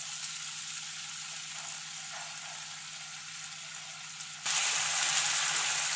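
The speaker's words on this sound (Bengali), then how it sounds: "ভালো করে একটু ভেজে নেব।" Onion paste frying with garlic in hot oil, a steady soft sizzle that jumps to a louder, brighter crackle partway through.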